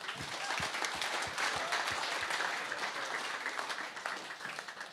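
Round of applause from a crowd for a local football club at a live draft event, dense clapping with a few sharp individual claps near the start, fading slightly toward the end.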